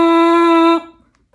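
Lips buzzing into a French horn mouthpiece, one steady nasal, reedy buzz held for under a second, close and loud, then breaking off into near silence.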